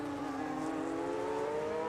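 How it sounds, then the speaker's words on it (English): Video-game F1 25 race car on a flying lap at Hungary, its engine a steady high-pitched whine held close and loud throughout, with no talk. "So PRV Widget is going to start his flying lap now."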